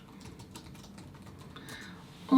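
A folder name typed on a computer keyboard in design software, a quick run of light, close key taps in an irregular rhythm, soft and alone, ending with a brief louder click.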